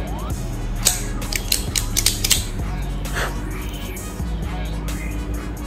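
Cutter snipping a Plasencia Alma del Fuego Concepción cigar, close crisp clicks and mechanical snips in a short cluster, with rustling handling noise around them.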